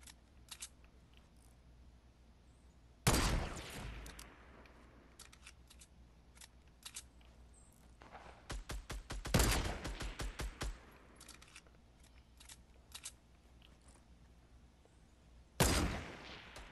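Gunfire in a Fortnite battle between several players: a loud burst of rapid shots, then a separate sharp volley, with a scattering of quieter pops and clicks in between and one more loud crack near the end.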